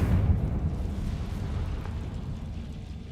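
A Confringo blasting spell explodes in Hogwarts Legacy with a deep, rumbling boom that starts loud and fades into a low lingering roar, with no voices.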